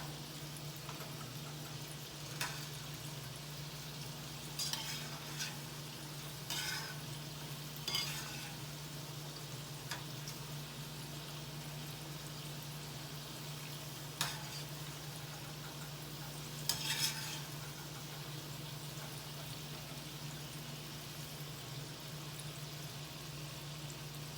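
Dahi vada lentil dumplings frying in hot oil, Nadiad style, give a steady low sizzle with a constant hum underneath and a few sharp clicks and spatters scattered through, no one talking.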